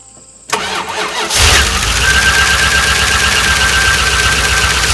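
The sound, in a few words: 1988 Ram truck engine starting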